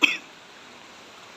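A single short cough right at the start, close and fairly soft, followed by quiet room tone.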